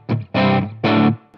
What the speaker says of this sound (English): There's a little bit of crunch in there because I'm driving the clean channel so hard